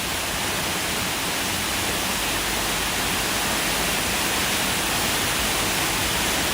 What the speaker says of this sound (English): it's only a 30-foot waterfall